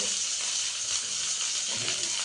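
Food frying in a pan over a gas flame, a loud, continuous close-up sizzle and hiss that stays steady throughout, with no talking.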